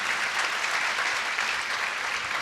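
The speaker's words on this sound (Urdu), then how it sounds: "بھرپور تالیوں میں انہیں مبارکباد پیش کرتے ہیں۔" A church congregation at a Sunday Mass in Lahore claps to congratulate a newly appointed Capuchin bishop: dense, even applause, close and sustained throughout, with no talking.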